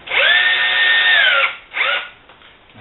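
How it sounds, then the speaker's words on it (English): A power drill driving a screw while building acoustic panels whines steadily for over a second, winds down, then gives a short second burst before stopping; close and loud, no talking. "Finish driving the screw down."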